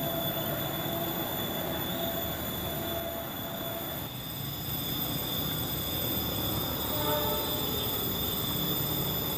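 The Mataram passenger train from Solo Balapan to Pasar Senen rumbles past continuously with broadband rolling noise and steady high-pitched wheel squeal throughout, fairly loud and close, no voices.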